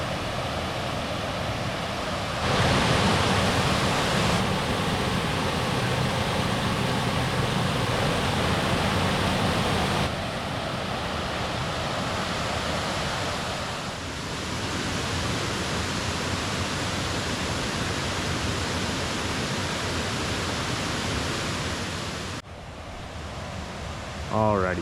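Water pours over an old stone dam built by the CCC between 1935 and 1937 at Kettle Creek State Park, Pennsylvania, a loud, steady broadband rush that continues without a break.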